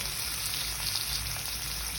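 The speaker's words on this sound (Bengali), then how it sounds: "তেলটা গরম হয়ে গেছে, আমি চিংড়ি মাছগুলো একটা একটা করে ছেড়ে দিব" Prawns fry in hot mustard oil, giving a steady, even sizzle and crackle close by with no voices.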